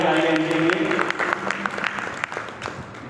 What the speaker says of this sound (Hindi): एक बार तालियां बजाइए इनके लिए।